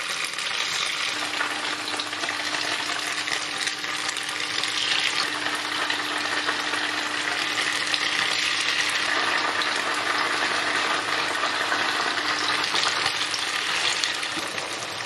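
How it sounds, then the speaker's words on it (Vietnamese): Tofu fries in hot oil in a pan with a continuous, even sizzle that holds steady throughout, with no talking. "Rồi chiên đậu hũ."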